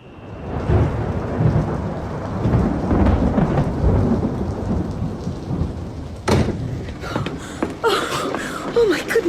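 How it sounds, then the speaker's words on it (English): Heavy downpour roaring steadily for the first six seconds, with broadband rain noise and low thunder-like rumble, then breaking into sharper clatter and splashes near the end. "Oh my goodness, I've never seen such rain."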